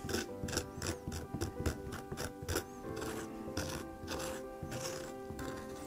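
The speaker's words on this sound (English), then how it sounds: "So this is not actual cheese I'm scraping off here, this is the mold." A knife scrapes blue mold off the rind of a farmhouse cheddar blue cheese, a close series of rapid rough scratches in bursts of strokes, then a steadier grating scrape.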